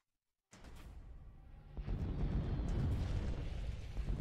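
Carpet-bombing explosions in the KARDS card game roll in as a deep, continuous rumble of blasts that swells and holds, loud and alone after a moment of silence.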